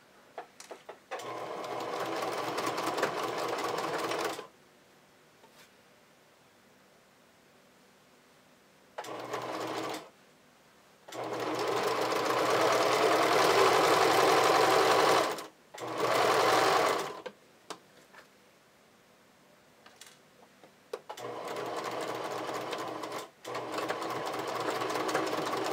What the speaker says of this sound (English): we're going to stitch this together with a half an inch seam allowance, and just be sure to do a really secure back tack